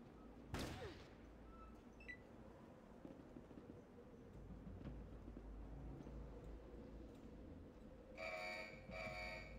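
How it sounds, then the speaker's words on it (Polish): An alarm set off in the video game Fallout Tactics, a pulsing electronic tone sounding twice in quick bursts at the end, after a sharp gunshot-like crack and a low rumbling background. "O, właśnie oni odpalili alarm"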